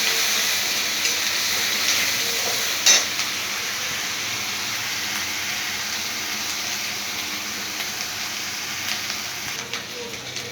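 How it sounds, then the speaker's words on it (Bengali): Onion and garlic frying in a pan for a Bengali fish dish, a soft continuous sizzle with a brief clink of stirring near the start. "পেঁয়াজ আর রসুন দুটো সুন্দর একটা ভাজা হবে লালচে লালচে।"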